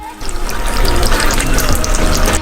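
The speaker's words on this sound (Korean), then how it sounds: "물 100ml를 부어요." Water pours steadily for a couple of seconds, a close, continuous splashing stream going in as 100 ml of water is added to 350 g of sugar for candy syrup.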